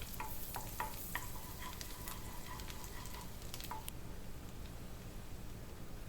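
Ten chopped garlic cloves fry in melted butter for a mushroom soup, a steady close sizzle with light clicks of stirring scattered over the first few seconds.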